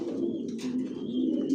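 A racing pigeon, a maxi racer, coos steadily in its loft, the low rolling calls continuous and close throughout with a few faint chirps above.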